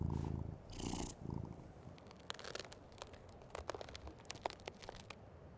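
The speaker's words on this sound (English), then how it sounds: "Yeah, good kitty." A cat in the video game Life is Strange: Double Exposure purrs softly and close, with a faint rumble under light rustling and crinkly clicks.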